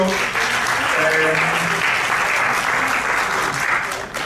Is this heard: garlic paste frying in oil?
no